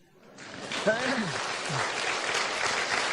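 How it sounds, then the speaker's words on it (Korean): A congregation at a church revival meeting breaks into applause that swells after a few quiet moments and carries on steadily, with a voice calling out over the clapping. "나 같으면 박수 친다."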